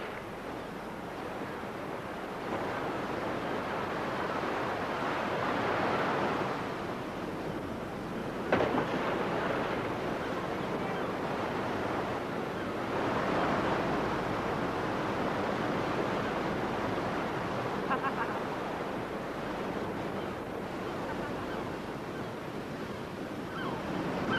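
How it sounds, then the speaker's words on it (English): Sea waves surge and wash around a small fishing launch crossing to Hoy in Orkney, a broad, continuous rush of surf and wind that swells and eases over about twenty-five seconds, with no voices. "we felt it spent more time going through the waves than over"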